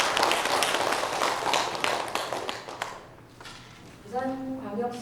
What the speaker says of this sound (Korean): 세계작가협회 친선 작가들의 용기와 노고에 박수를 보냅니다